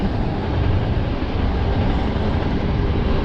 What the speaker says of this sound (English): Sorry about the trains, but when you're on Route 66, you're going to be by the trains for sure.